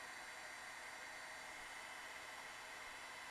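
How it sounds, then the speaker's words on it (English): A heat tool blows steadily to dry wet salt sprinkled on a watercolor painting, giving a continuous even hiss-like airflow roar at moderate level with no talk. "Okay, got my heat tool."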